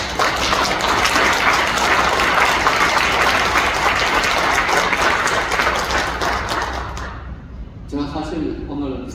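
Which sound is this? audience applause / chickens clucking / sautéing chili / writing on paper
audience applause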